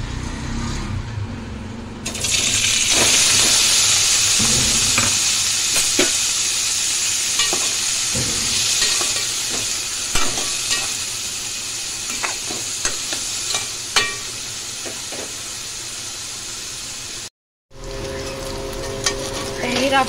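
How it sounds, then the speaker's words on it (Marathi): Paneer cubes fry in oil in a pan, giving a steady close sizzle with scattered clinks and scrapes of a spatula, briefly cutting out before resuming. "आपण पनीर थोडंसं तळून घेऊया।"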